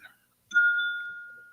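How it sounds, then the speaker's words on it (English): A single bright bell ding sound effect strikes once after a brief silence, then rings on as a clear tone that slowly fades. "I did the bell."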